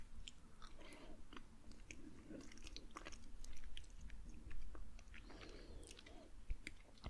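Honey being tasted in close-up mouth sounds, soft wet smacking and chewing clicks repeating steadily, quiet and intimate near the microphone.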